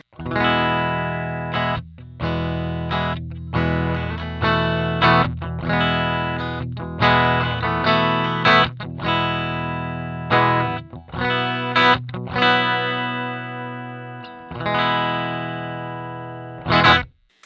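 An electric guitar plays chords and choppy strums through a Roland Jazz Chorus clean combo amplifier with flat EQ, loud and bright with a slightly compressed, gritty edge, rhythmic with brief pauses between phrases.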